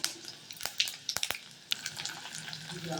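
Tempering spices frying in a kadai, with a soft crackling sizzle punctuated by sharp popping clicks and spatters, close and fairly quiet.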